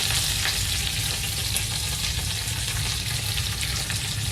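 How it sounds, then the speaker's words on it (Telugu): Onions fry with curry leaves in a hot pan for pepper chicken, giving a continuous, loud, close sizzle with faint stirring through the whole stretch. "దాంట్లో ఎర్రగడ్డలు వేగించుకుందాం."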